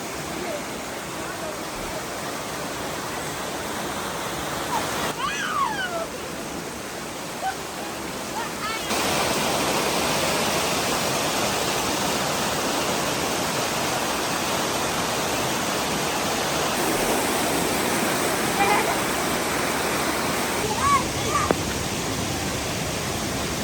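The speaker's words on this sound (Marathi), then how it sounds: "पाण्याचा आवाज तुम्ही ऐकू शकता." A waterfall at Pale village in Maharashtra roars as a loud, continuous broadband rush, steady throughout and growing slightly fuller partway through, with a few faint voices and knocks on top.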